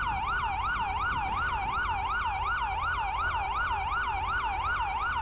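A police car siren in GTA 5 with the LSPDFR mod wails in a fast, regular up-and-down cycle, loud and continuous, with no talking.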